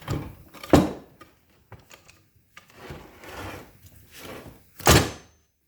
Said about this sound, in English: You just lift up the jack and pull the hydraulic unit out